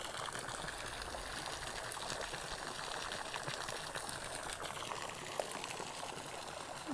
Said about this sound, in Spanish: Miren qué bonito el dinosaurio tirando agua.